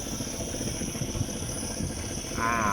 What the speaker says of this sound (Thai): บนนี้เครื่องก็ยังติดกระหึ่มอยู่นะครับ